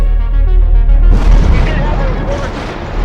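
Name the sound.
explosions during air raid on Baghdad, news broadcast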